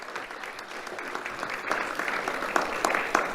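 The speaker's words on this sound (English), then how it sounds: "Let's have a round of applause for Rich," Audience at a community awards ceremony applauding volunteers, a dense, even burst of clapping from many hands that swells slightly toward the end, with no talking.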